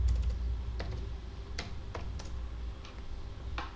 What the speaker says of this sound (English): Ctrl C to copy, Ctrl V to paste here